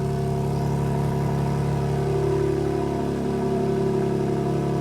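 A BMW M3 Competition idles steadily nearby, a deep, even exhaust rumble with a constant tone and no revving.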